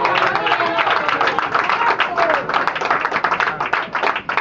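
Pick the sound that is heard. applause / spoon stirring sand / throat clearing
applause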